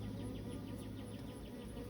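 Honey bees buzz inside an open hive with frames stuck together by propolis, a steady, close, low drone, calm and even throughout.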